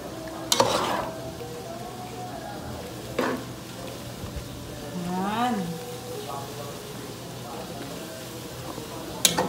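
A utensil stirs sisig-style chopped hotdogs in a frying pan over a soft steady sizzle, with a few sharp scrapes and clinks against the pan and a voice speaking intermittently nearby.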